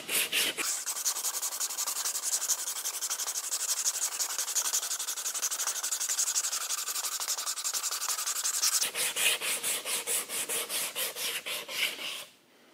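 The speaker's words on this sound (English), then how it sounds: "all we have to do at this point is just sand the corners off of these peaks" Corners of a chamfered metal part sanded off by hand, heard as steady rhythmic back-and-forth abrasive strokes, close and fairly loud, continuing in quicker distinct passes near the end before stopping, with no voices.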